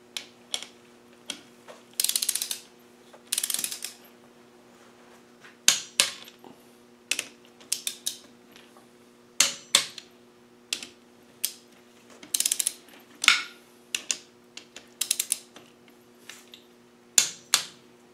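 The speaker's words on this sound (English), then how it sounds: "And then we'll tighten down the top wrench." Ratchet wrench tightening bolts on an LT230 transfer gearbox during a rebuild: repeated bursts of crisp pawl clicking in short strokes, close and fairly loud, with brief pauses between strokes and a steady faint hum underneath.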